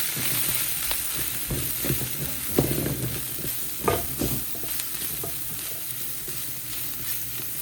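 Spicy masala sizzles steadily in a hot pan for Maggi noodles while it is stirred, with soft scraping and clinks over the constant frying hiss and no talking.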